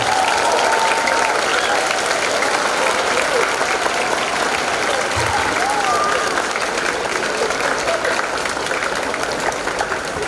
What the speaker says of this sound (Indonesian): Tepuk tangan untuk Bapak Ibu guru yang berbahagia.